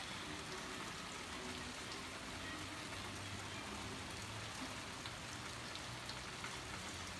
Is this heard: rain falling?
yes